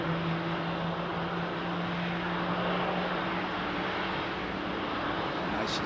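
Heavy airliner jet engines departing Heathrow, a continuous broad roar with a steady low hum running underneath, no voices.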